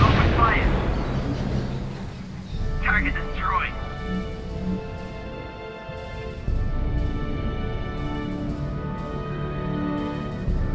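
Artillery and gunfire from units opening fire in the strategy video game RUSE boom and rumble amid battlefield noise, with radio-style voices talking over the fighting throughout.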